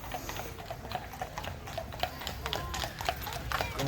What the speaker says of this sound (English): here's another horse coach coming up